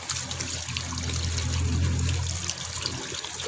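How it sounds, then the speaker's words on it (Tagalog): Water runs steadily from a faucet as a cucumber is rinsed, a continuous close trickle and splash with no talking over it. "Hugasan natin mabuti, guys."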